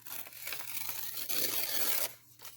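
A journal page is ripped by hand, a close papery tearing in a couple of drawn-out strokes, the second louder and harsher, followed by a short crinkle.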